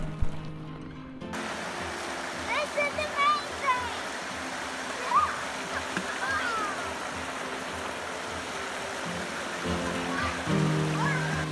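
Water rushes steadily in a constant broadband wash of a nearby river, with brief voices and small sounds occasionally rising above it.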